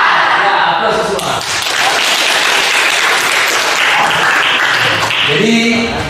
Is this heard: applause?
yes